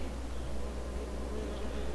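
Blue orchard bees (Osmia) buzz steadily at a young flowering tree, a continuous close insect drone with no pauses.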